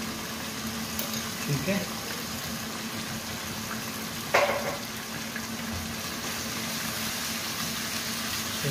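Chicken frying in ginger garlic paste in a pan, a steady sizzling hiss throughout with a brief utensil clink midway; a person speaks briefly over it.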